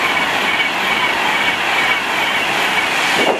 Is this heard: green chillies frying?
no